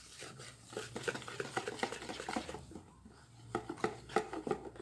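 A hand whisk beating white flour, added spoonful by spoonful, into batter for a chocolate caramel Turkish cake, giving a busy, close scraping and tapping rhythm that stops briefly, then picks up again.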